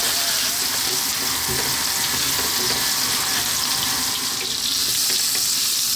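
Mushrooms fry in butter in a pan, producing a continuous, close, bright sizzle and hiss with faint stirring noises underneath.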